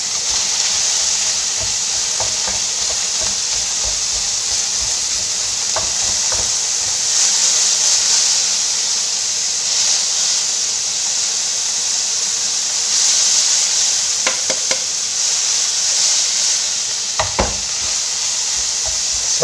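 Pork mince sizzles steadily in a pan over medium heat, a continuous bright hiss with occasional crackles and a few stirring scrapes, close and loud with no talking.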